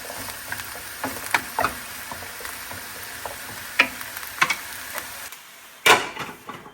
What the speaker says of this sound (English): So we're getting ready to go ahead and put the eggplant in the pan.